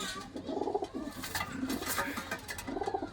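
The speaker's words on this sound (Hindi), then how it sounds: "देख सकते हो आप कबूतरों को, माशाल्लाह बहुत ज़बरदस्त कबूतर।" Soft, repeated cooing of Teddy pigeons rises and falls against a steady background hum, several calls overlapping at moderate distance with no talking.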